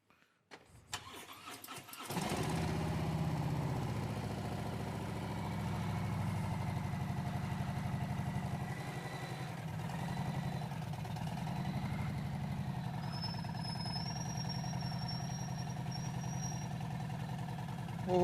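A motorcycle pulling a trailer starts up, and the engine then runs steadily at close range for the rest of the time, a low continuous drone with a faint voice underneath.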